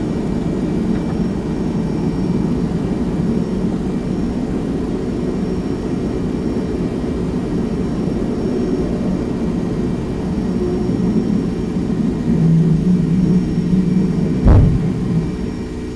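A USAF Boeing 767 freighter in the X-Plane 11 flight simulator rolls for takeoff, its engines a steady, broad rumble and whir that holds throughout, with a brief thump near the end.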